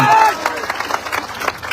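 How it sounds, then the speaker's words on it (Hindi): Crowd applause and cheering at a BJP joining event in Tarapur, with bursts of clapping and crowd noise over a busy background and speech mixed in. "तालियां बढ़ती रहनी चाहिए।"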